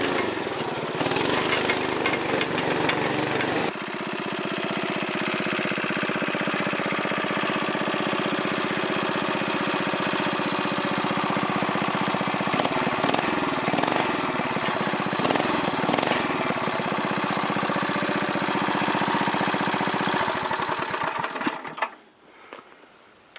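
An old go-kart engine, nearly out of gas, runs loud and close with a steady buzzing drone. It holds a constant throttle for about twenty seconds, then sputters and dies out.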